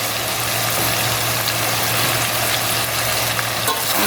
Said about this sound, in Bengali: এখন এখানে দিব আমি 1টা রসুন কুচানো। এটা এটার সাথে ভাজবো।